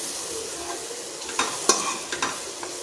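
Finely chopped tomatoes are stirred into roasted flour in a hot pan for capsicum curry, a soft steady sizzle with a few sharp scrapes of the spoon, close and fairly loud.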